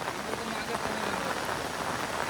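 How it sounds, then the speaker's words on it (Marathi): Heavy rain pours steadily on a forest trail trek to Devkund waterfall in Maharashtra, a dense, even hiss of drops on leaves and surfaces filling the whole clip without pause. "पाऊस एकदम जोरात चालू झालेला आहे"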